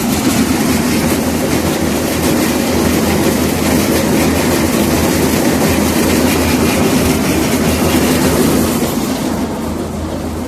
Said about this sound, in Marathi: बघा आता आपला ट्रॅक्टर 14च्या RPM चालू आहे सध्या.